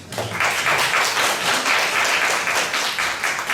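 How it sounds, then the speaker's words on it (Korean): An audience at an Energy Day proclamation ceremony in Busan claps steadily for a few seconds, a dense, even burst of applause in an indoor hall. "우리 박수 한번 치고 할까요?"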